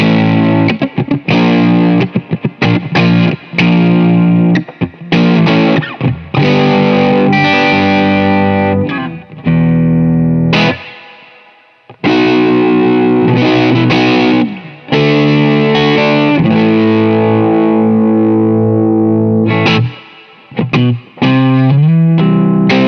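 Overdriven electric guitar on the neck pickup through a Victory DP40 amplifier, loud chords and sustained riffs with brief gaps, played alone and close.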